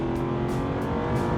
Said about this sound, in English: It is an absolute joy to row through the gears with that burbling under the bonnet